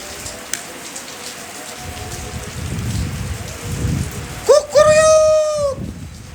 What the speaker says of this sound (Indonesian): Guys, hujan guys ini.